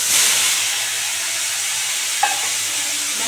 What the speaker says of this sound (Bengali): বন্ধুরা এবার আলু ফুলকপিটা দিয়ে দিলাম।